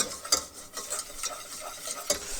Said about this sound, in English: I dump in the flour and quickly mix it around.